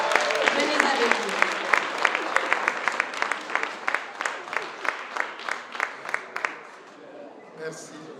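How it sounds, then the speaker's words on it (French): Audience applause at a Black History Month event, a brisk crowd clapping that thins to a few distinct, rhythmic claps before fading out, with a brief voice at the end. "Une bonne main d'applaudissements."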